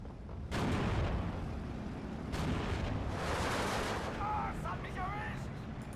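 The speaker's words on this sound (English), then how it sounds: "Got an artillery strike coming up, which is going to be doing quite a lot of damage to our friendly artillery." Artillery strike explosions in the Steel Division 2 war game, a steady rumbling barrage of booms and blasts with swelling bursts throughout, loud and dense, while someone talks over it.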